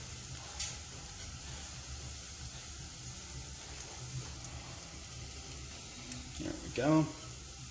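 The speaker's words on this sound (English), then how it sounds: "So let's go ahead and we'll throw the garlic in." Garlic hits a hot pan and gives a soft, steady sizzling hiss that runs the whole time. Someone speaks briefly near the end over a few light clinks and scrapes.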